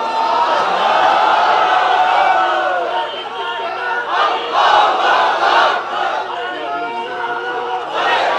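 A crowd at a Bangladeshi Islamic sermon gathering loudly chants the takbir in unison, a sustained roar of many voices that dips briefly, then swells again in repeated waves.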